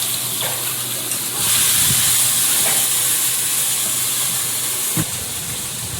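Water hits a hot pan of chicken curry being cooked over a coal fire, breaking into a sudden loud hiss that holds steady for several seconds, with a short clatter near the end and no talk.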